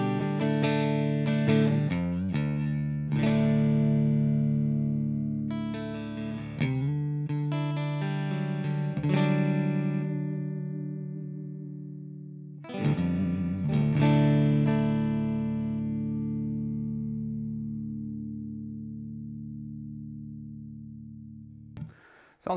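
Electric guitar chords with a split-coil pickup ring out with a bright, thin, sparkly tone, struck several times and left to sustain and decay, played alone without talk.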